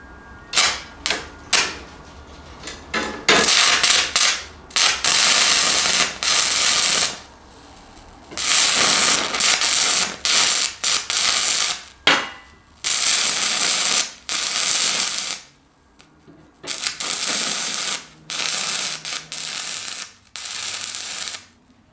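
Stick welding with a Fronius Transsteel 2200 and a 1/8 inch 6010 rod, the arc running hot and cutting out: loud crackling, sizzling bursts of a few seconds each, separated by abrupt silences as the arc keeps stopping and restarting.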